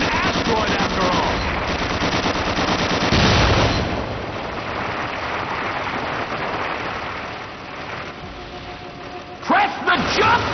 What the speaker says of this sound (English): Press your crouch key to fire the machine guns.